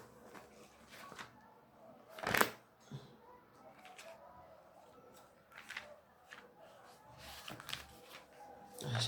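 Sheet of folded paper handled and unfolded at close range during a sermon reading, with a sharp crinkle and a few softer rustles in a quiet room.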